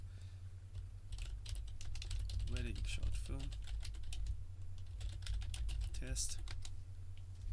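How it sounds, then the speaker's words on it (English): Rapid clicking keystrokes on a computer keyboard as a file name is typed in video-editing software, an uneven run of taps over a low steady hum, with a person speaking briefly partway through. "hit Ctrl S on your keyboard and type"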